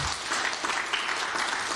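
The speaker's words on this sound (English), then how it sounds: "ask you all to give Miss Jeremy Harte a round of applause" Audience applause after a folklore talk, a steady dense wash of many hands clapping, fairly close and even throughout, with no voices over it.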